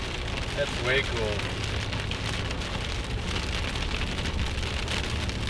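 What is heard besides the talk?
rainstorm, rain falling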